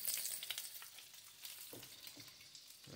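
Bacon frying in a pan, a steady hiss of fat with scattered crackles and faint scraping or stirring, loud at the start and then settling to a softer, continuous sizzle with no one talking.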